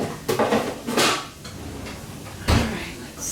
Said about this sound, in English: And then this is put back in the drawer where it belongs.